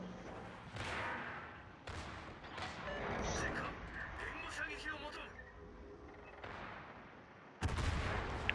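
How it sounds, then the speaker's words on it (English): Armor-piercing shells fire in a volley from a Baltimore cruiser in a naval warship video game, a string of heavy gunfire booms and crashes rolling across several seconds, with a commentator talking over the battle. "There's a nice AP volley into the superstructure."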